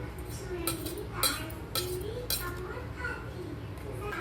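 Lemon chili paste being mixed with salt in a bowl: a spoon clinks and scrapes against the dish in several sharp, close knocks, with a voice faintly present underneath.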